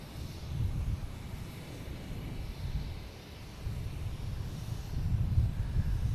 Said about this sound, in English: Spirit Airlines heading out of here. There it is.